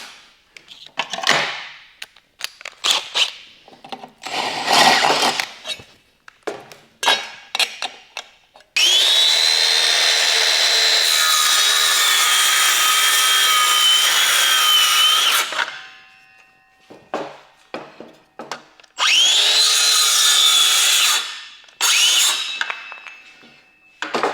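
A power tool sets a 6 mm rivet nut into an internal structure. Short clanks and handling knocks lead into two sustained, steady motor whirs, one about six seconds long and a shorter one near the end, with no talking.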